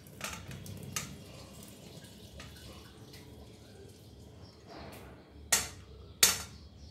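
Water being strained off steamed pointed gourd with onion, garlic and chilli, a quiet running trickle and drips followed by two sharp clanks of a pot near the end.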